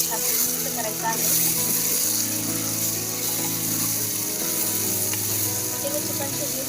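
Raw chicken being stirred with masala in a hot pan for chicken biryani, a continuous bright sizzle with scraping stir sounds, with a person talking over it.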